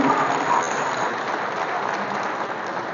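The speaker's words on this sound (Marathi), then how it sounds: "जोरदार टाळ्यांचा गजर आपण करूया" An audience at a school award ceremony in Navi Mumbai applauds, honouring sanitation workers and prize winners: dense, steady clapping from a large crowd, loud and sustained throughout with no voices over it.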